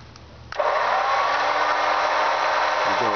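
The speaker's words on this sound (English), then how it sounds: "So if we want to go in with the winch" A Ramsey DC-200 12-volt electric winch, rated at 8000 lb, starts abruptly and hauls in its cable with a steady, close motor whine before winding down.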